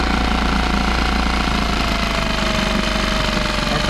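A Nissan outboard motor runs in a test bucket, producing a loud, steady, close engine roar with a rapid pulsing throb and no pauses.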